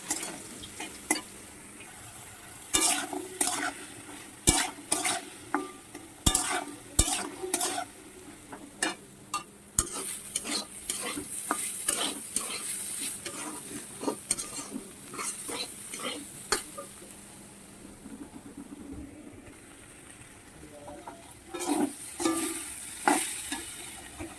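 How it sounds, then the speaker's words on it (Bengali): Quiet frying of bitter gourd and potatoes with a soft sizzle, punctuated by many sharp scraping and stirring clicks from a spatula against a pan. "এই যে উচ্ছে আলু ভাজা করছি"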